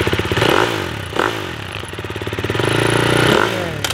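A KTM 350 SXF motocross bike engine runs close and loud after an electric start, with a rough, pulsing idle and throttle blips that rise and fall.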